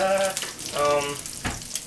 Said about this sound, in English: as you can hear, the meatballs are still cooking away nicely over here